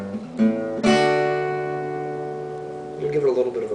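Electric guitar riff from a song lesson: a few picked notes followed by a ringing chord that sustains and slowly fades, then a brief muted strum, played close and alone.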